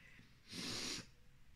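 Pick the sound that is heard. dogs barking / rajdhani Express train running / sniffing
sniffing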